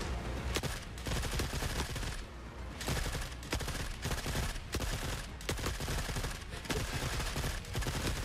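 Rapid gunfire from the video game The Forever Winter, loud repeated automatic bursts with short pauses between them, close and dominant.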